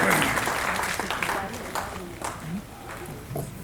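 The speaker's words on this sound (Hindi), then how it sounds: "आपकी तालियों की जनाब फैयाज खान साहब।" An audience applauds at a mushaira poetry gathering, the clapping loudest at the start and fading, while a speaker's voice talks over it.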